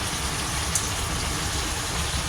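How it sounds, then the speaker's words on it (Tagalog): Heavy rain in a Philippine home setting, a dense, steady hiss of downpour that runs unbroken and fairly loud, with no voices over it. "Ayan ang lakas ng ulan, guys."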